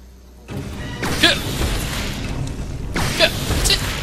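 Two heavy booms from grenade-gun blasts in the video game Resident Evil 0 HD, each a loud sudden burst with rumbling debris trailing off, the second arriving about two seconds after the first.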